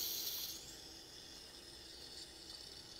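A steady, quiet hiss of butane gas rushing through a ball valve into a tank, continuous with a slightly louder burst at the start, no voices.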